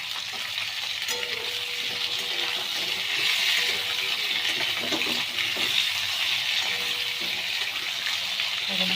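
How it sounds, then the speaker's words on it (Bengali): Ridge gourd and potatoes fry together in a pan, giving a dense, continuous sizzle with occasional metallic clinks and stirring scrapes up close. "আলুগুলো যখন একটু ভাজা ভাজা হয়ে গেছে এবার আমি ঝিঙেগুলো দিয়ে দিলাম।"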